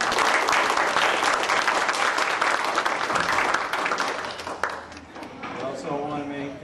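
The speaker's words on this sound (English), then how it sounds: "Let's give them a round of applause" Sustained audience applause fills a meeting hall, loud and dense throughout, then thinning toward the end as a voice begins speaking over the fading clapping.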